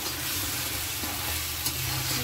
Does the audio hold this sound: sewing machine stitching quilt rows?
no